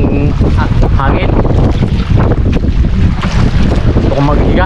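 Strong wind buffets a fishing boat out at sea, a loud continuous roar with gusty buffeting against the microphone and a faint background murmur of voices.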